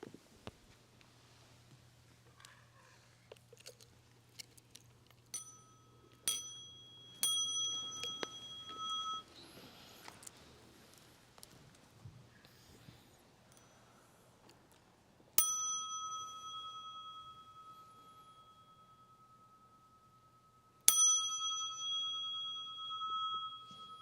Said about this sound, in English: small bell, we'll stand up.